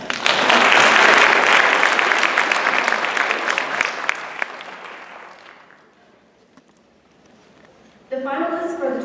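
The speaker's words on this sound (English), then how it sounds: "Please join me in a round of applause." Conference audience applauding loudly, dense clapping that swells early then thins and fades to near silence, followed by a voice starting to speak at the end.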